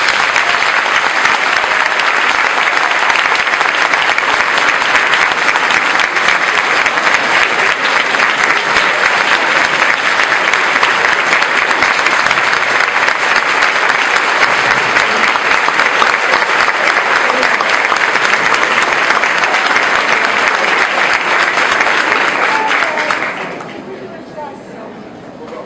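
A lecture audience gives sustained, dense applause at full volume for over twenty seconds, then the clapping abruptly thins and fades at the end.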